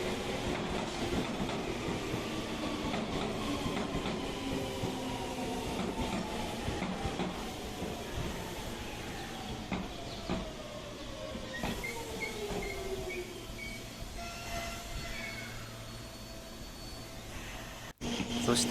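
A Seibu 9000 series electric train on the Tamako Line rolls into platform 2 at Hagiyama Station with steady rumble and clatter, long wheel squeals gliding down in pitch as it curves in.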